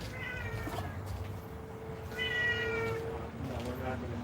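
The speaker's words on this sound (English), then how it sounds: "Wow, everywhere I look it's cats." Several cats meow in long, drawn-out calls, one after another and overlapping, fairly close over a constant low background murmur.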